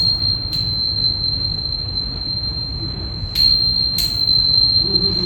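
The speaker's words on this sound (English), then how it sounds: "So even those tuning forks will be sounding there." Tuning forks ringing in a room during a live performance built on Scriabin's mystic chord, a thin high steady tone held throughout over low room rumble, with a few soft clicks.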